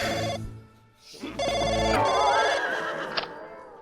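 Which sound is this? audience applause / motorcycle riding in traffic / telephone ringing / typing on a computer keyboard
telephone ringing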